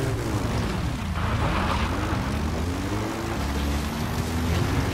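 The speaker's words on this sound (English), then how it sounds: "拖个直升机回来吧。" Support helicopter arriving in the Metal Gear Solid V video game, a loud, close rotor and engine roar with sweeping, shifting pitch tones that rise and fall as it approaches, heard alone without talk.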